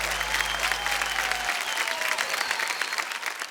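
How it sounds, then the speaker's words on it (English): Audience at a film festival awards ceremony breaks into loud, sustained applause, a dense wash of clapping that fills the hall and continues evenly for several seconds without fading. "let's have a big round of applause for Jagran Film Festival"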